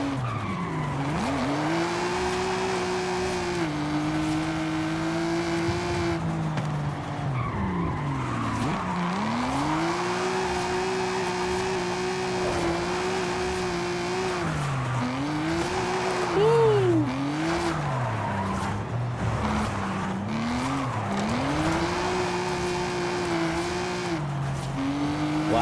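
An American muscle car drifting in Forza Horizon 5, steered with a wheel: a steady engine drone with shifting revs and sustained tire squeal, loud and continuous throughout, with occasional pitch swings as it slides.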